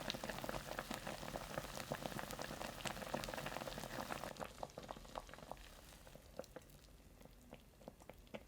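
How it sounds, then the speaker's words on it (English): Fried bean curd simmering in a mirin and sugar broth under a lid directly on top, giving faint, steady bubbling and popping with scattered crackles that ease slightly toward the end. "Place a lid directly on top and simmer for 15 minutes on medium heat."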